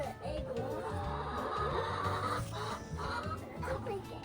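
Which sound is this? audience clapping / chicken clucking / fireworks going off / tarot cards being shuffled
chicken clucking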